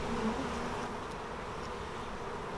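Honeybees buzz around a hive frame during swarm control, a dense, steady close-up drone of many wings with no voices over it.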